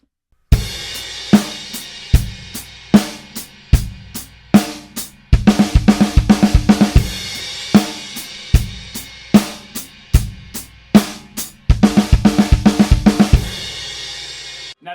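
Drum kit groove with a 16th note triplet fill, loud and close: steady kick, snare and cymbal beats with two fast bursts of dense triplet strokes, no talk.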